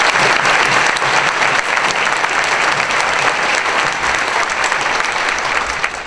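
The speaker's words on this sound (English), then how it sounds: "we owe you a tremendous round of applause for your work." Large audience at a county drug awareness summit gives a loud, sustained round of applause, dense even clapping holding steady for several seconds with no speech over it.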